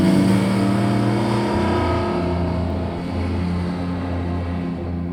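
Theon Design Porsche 911 restomod on stiff adjustable coilovers driving through corners, a steady loud engine note holding and shifting pitch as it accelerates out of a bend.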